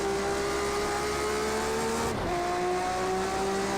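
A race car engine in Project Cars 2 drones steadily at high revs, dipping briefly as it downshifts under braking for a chicane, then climbing again, loud and close with no talk.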